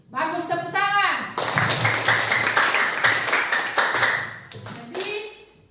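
Classroom students clap together, a burst of rapid hand claps that runs for several seconds between stretches of a teacher's speech.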